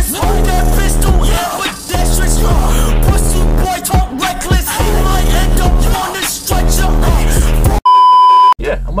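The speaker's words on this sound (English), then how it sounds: "here's the intro music" Loud intro music for a BMX Streets PIPE video, a steady beat-driven track with a sustained bass line and bright repeated notes, which cuts out abruptly near the end before a short tonal beep.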